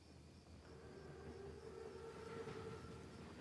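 An armored German train approaching in a Call of Duty: WWII mission, a low continuous rumble with a faint sustained whine rising slightly in intensity, moderately distant and steady throughout.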